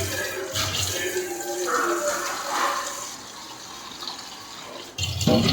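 Tap water runs steadily into a vessel in a home kitchen, a continuous close splashing flow that shifts slightly in tone as it fills, with a brief clunk near the end.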